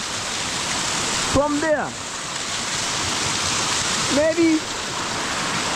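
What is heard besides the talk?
waterfall rushing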